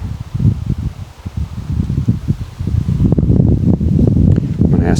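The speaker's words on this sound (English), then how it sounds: "Right now the wind picked up and he's looking at the flag blowing right there" Strong wind gusts outdoors at a horse training session, with a flag flapping and rustling in bursts, loud and close to the microphone throughout with rumbling buffeting.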